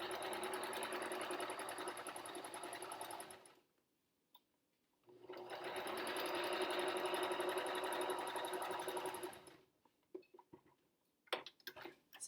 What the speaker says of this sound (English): I'm going to sew from the top to the bottom, 3/8 inch seam on this side and on this side